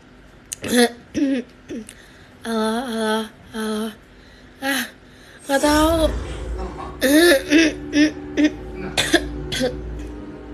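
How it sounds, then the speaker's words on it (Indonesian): A few short coughs and throat-clearing sounds, close and loud, scattered among hoarse vocal noises and brief pauses. "kenapa batuk pengen coba buat ngebenerin suara aku"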